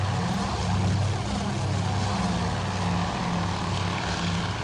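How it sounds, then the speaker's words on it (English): World War II torpedo planes in Task Force Admiral drone with a steady, dense propeller-engine roar that holds constant and loud throughout, with no voices over it. "Or torpedo planes are heading in, I should say."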